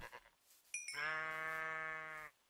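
A single drawn-out bleat from a Minecraft sheep sounds near and steady for over a second after a brief chime-like blip, then cuts off cleanly.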